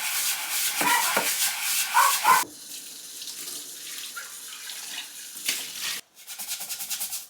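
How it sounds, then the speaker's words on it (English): Someone scrubs burnt rice grime off the bottom of a small pot at a sink, with running tap water and rubbing strokes rising and falling in bursts, and a brief pause near the end. "trying to remove this black grime off the bottom of this little pot"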